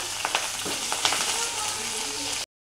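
Curry leaves and mustard seeds sizzling in hot coconut oil for a Kerala tapioca and beef dish, a loud, dense crackling hiss with small pops that cuts off abruptly.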